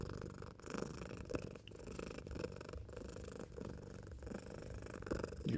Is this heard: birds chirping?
no